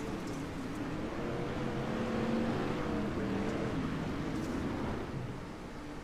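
Street stock race cars at Crandon International Raceway roar past on the dirt track. The engines are heard as a steady, somewhat distant drone that swells in the middle and fades toward the end.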